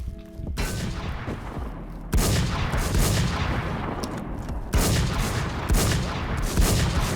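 Gunfire in a first-person shooting video game, with dense bursts of shots and booming impacts running continuously, jumping louder in a few sudden onsets, heard alone without talk.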